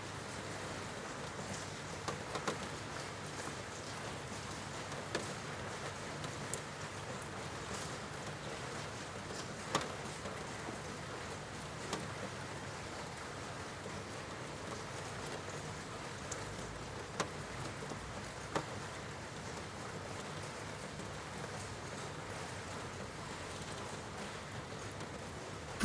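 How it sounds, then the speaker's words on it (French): Steady rain falls in a continuous soft patter, with scattered individual drops ticking out now and then, even and fairly quiet throughout with no voices. "Vous entendez la pluie."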